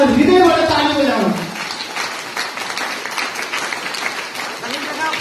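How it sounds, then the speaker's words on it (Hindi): An audience at a product seminar breaks into applause just as a voice finishes speaking. Dense clapping then carries on steadily for several seconds, with a voice still audible over it. "कन्जुस नगरिकन हृदयबाट ताली बजाउनु"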